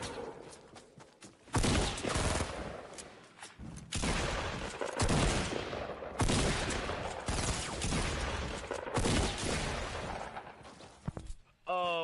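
Shotgun blasts and other gunfire in Fortnite, several loud broadband bursts spaced a couple of seconds apart, mixed with game noise and speech.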